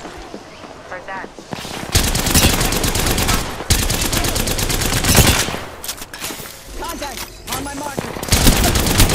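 Automatic weapon fire from a firefight in the battle royale game Apex Legends, loud sustained bursts and rattling volleys that stop and restart across the span, with radio-style voice callouts over the shooting.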